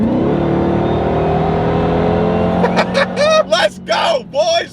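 A 1000-horsepower Dodge Durango Hellcat running on E85 holds a steady, loud engine drone at around 2,200 RPM, with someone talking over it during the second half.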